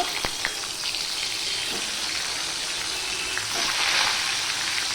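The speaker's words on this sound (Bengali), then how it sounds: "এবার একে একে আমি ফুলকপিগুলো ভেজে নেব।" Cauliflower pieces fry in hot salted oil in a wok with a constant close sizzle. A few soft clinks from a utensil come through, and no one speaks.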